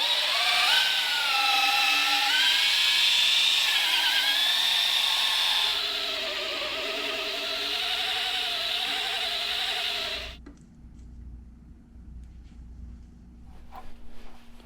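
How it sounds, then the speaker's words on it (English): An electric polisher buffs a boat hull recovered from a forest, a steady high motor whine that shifts pitch as the speed changes, then cuts off, leaving near silence with faint handling sounds. "then you can speed up your polisher and actually give it the juice"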